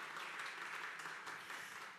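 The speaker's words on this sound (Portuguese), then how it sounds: "Agora sim, aplausos, bem-vinda!" A podcast audience applauds to welcome a guest, with brief, steady, dense clapping from a small crowd heard alone.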